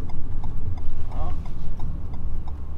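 Alpine car rolling over cobblestones, a rhythmic bumping clatter from the tyres under a steady low rumble, heard from inside the car with someone talking over it.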